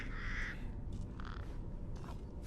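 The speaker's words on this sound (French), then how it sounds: "Ah, corbeau" A crow caws in the Resident Evil Village video game, three or four harsh, raspy calls spaced across a couple of seconds over a low rumbling ambient background.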